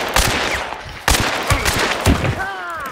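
Gunfire in the video game Hunt: Showdown, with several loud, sharp shots spaced about half a second to a second apart. Each shot rings and echoes, a voice comes in briefly, and a whistling tone rises at the end.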